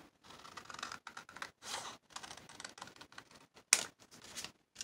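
Paper being trimmed for a vintage traveler's notebook, heard as close, faint rustling and scratchy cutting strokes in short bursts, with one sharp snip near the end.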